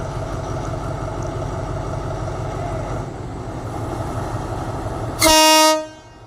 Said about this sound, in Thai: ตอนนี้ทางสถานีนะครับให้สัญญาณปล่อยขบวนรถเร็วที่ 102 เอ้ย 107 นะครับออกจากสถานีอยุธยาแล้วนะครับ